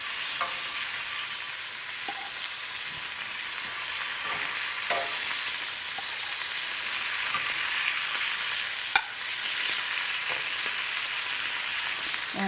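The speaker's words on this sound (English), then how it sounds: "let's get the rest of these in the pan to cook" Deer heart pieces sizzle steadily in a pan, a close and even frying hiss broken by occasional stirring scrapes, with no speech.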